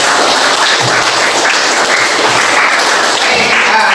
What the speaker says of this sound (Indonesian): Terima kasih, tepuk tangan.